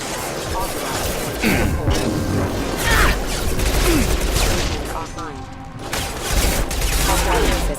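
Rapid bursts of sci-fi gunfire from the Mass Effect 2 combat game, with crashes and impacts forming a dense, loud barrage, and game voices talking over the shooting.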